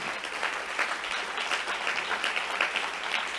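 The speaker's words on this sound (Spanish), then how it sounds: "Dale fuerte el aplauso al que vive." A church congregation applauds during a sermon, a dense, continuous roar of clapping from many people that holds steady throughout, with no voice over it.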